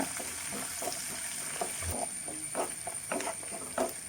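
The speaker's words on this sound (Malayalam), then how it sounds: "വെളുത്തുള്ളിയും ചെറിയുള്ളിയും ഇട്ടതിന് ശേഷം അതിലേക്ക് കരിവേപ്പില പച്ചമുളക് ഇട്ട് മൂത്തതിന് മൂക്കുന്നത് വരെ ഇളക്കിക്കൊണ്ടിരിക്കുക" Garlic, shallots, curry leaves and green chilli frying in a pan while being stirred, a soft continuous sizzle with light scraping and clinks, close and fairly quiet.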